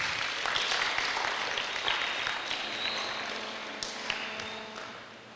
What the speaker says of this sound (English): I would like you all to give yourselves a round of applause